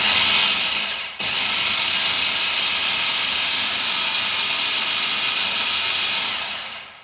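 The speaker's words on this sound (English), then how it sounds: "it's going into the blender" Blender pulsing chopped onions and garlic for a marinade: a steady, loud, high whirring motor roar with one brief dip near the start, then running continuously before winding down.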